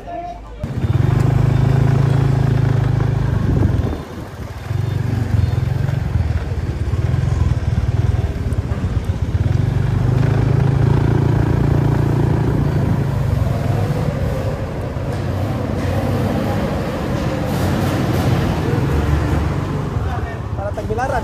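A motorcycle engine runs steadily and loud close by during a ride in Bohol, holding a constant low drone throughout with a brief dip in revs early on.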